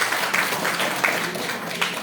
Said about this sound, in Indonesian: Tepuk tangan dulu dong buat Bu Iva.